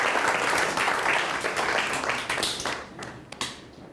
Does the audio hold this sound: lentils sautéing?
no